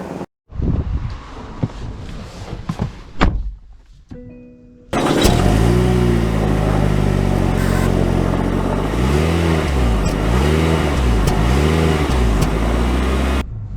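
A 2024 Mitsubishi Outlander SUV starting off and driving, heard from inside the cabin: a steady engine drone with road and wind noise, rising and falling as it accelerates, after a quieter stretch of handling noise.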